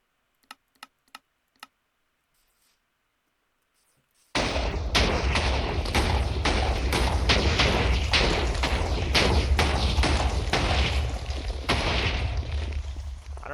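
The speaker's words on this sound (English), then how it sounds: "So it's doing the explosion twice." Repeated explosions triggered by commands in Minecraft, a loud dense burst of blasts and rumbling crackle running for several seconds after a few sharp clicks at the start, with no talking over it.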